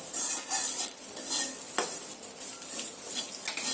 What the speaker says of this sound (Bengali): এটা একটু মুচমুচে করে ভেজে নিতে হবে, তাহলে বাটাটা ভালো হয়।